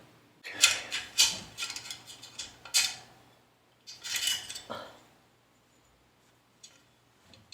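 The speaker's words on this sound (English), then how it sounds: "I'm just gonna keep unscrewing this guy" A tool works loose a corroded screw on an e-bike hub motor wheel, giving close, irregular metallic scraping and clicking bursts separated by quiet gaps.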